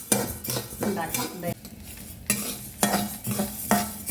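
Horse gram dry-roasting in a pan, stirred with a metal utensil that scrapes and clatters in repeated strokes over a light crackle.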